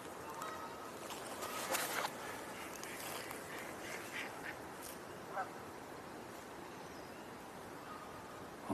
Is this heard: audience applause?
no